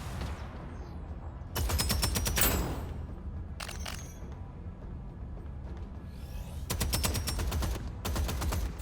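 Gunfire in the video game Deadzone: Rogue: two dense bursts of rapid automatic shots, each lasting about a second, with a short burst between them, loud over a steady background of game ambience.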